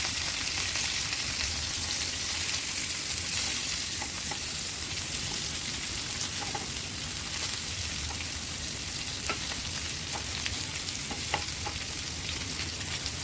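Stuffed masala bitter gourds frying on low heat in an uncovered pan, a continuous close-up sizzle with occasional small clicks and taps as the pieces are turned.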